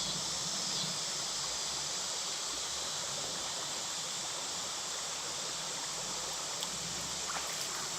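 Flowing stream water rushes steadily and loudly throughout, a constant broadband wash with no voices.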